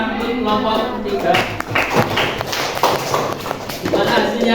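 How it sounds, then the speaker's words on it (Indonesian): Students in a classroom applaud a presenting group with a brief round of uneven clapping, heard over chatter and talk from voices nearby. "Beri tepuk tangan untuk kelompok 3."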